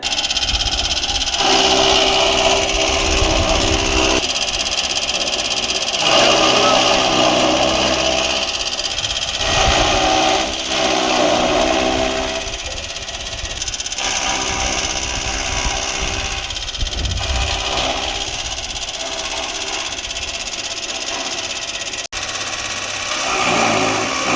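A horizontal chaff cutter driven by a 3 HP copper-winding motor runs steadily and loudly throughout, its engine-like drone rising and falling in cycles as fodder is cut.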